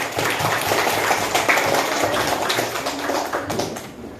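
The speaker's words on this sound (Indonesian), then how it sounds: "tepuk tangan untuk kita semuanya" Children in a classroom coding lesson clapping together in a steady, dense patter of many small hands for about four seconds, moderately loud and close, with no talk over it.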